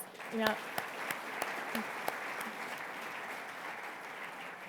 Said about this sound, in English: Please help me give the mayor another round of applause